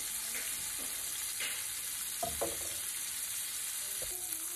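Sausages fry steadily in a pan with a continuous hiss and crackle, broken by a few soft clicks and scrapes of utensils partway through.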